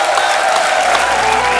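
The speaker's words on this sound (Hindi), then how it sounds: "तो एक बार जोरदार तालियां हो जाएं हमारे मेहमानों के लिए।" Studio audience on The Kapil Sharma Show cheering and applauding the guests, a loud continuous crowd roar with clapping, mixed with music and bright tonal sounds throughout the short burst.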